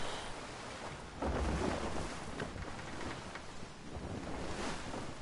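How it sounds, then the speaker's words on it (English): Ocean waves in Assassin's Creed III wash in a steady, broad rushing roar that swells slightly, with no talk over it. "The waves."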